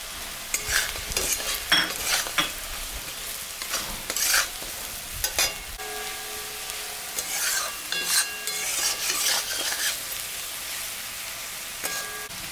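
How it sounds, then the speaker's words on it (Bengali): Potatoes and onions fry in oil with salt and turmeric, a steady close sizzle under repeated scraping and clanging strokes of a spatula against the pan, with no talk. "আলু পেঁয়াজ ভাজা ভাজা হয়ে গেছে, এখন আমি লবণ হলুদটা দিয়ে দিলাম।"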